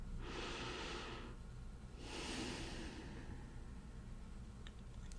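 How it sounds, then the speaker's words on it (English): A slow, deep exhale during a guided breathing exercise, followed by a second long, soft breath. Both are close and quiet against a faint background hiss. "Now exhale."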